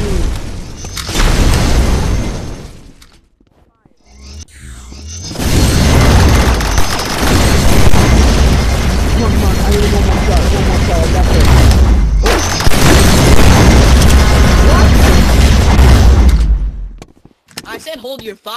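Dense, loud blasts and rumbling gunfire fill a Rec Room Star Wars game battle, with sustained booming explosions and a brief lull before the chaos resumes.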